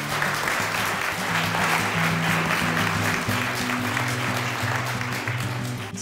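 An audience at a public health lecture event applauds steadily for several seconds, a dense, even wash of clapping with a low hum running underneath.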